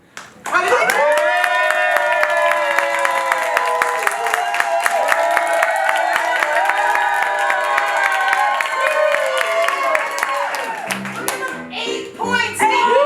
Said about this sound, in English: Applause if you're ready. Here we go. Clap for it.